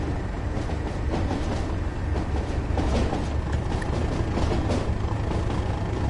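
A stone-carrying freight train in Train Sim World, running from Lewes to Newhaven, rolls along as a steady, loud rumble of wheels and wagons throughout, with no voices.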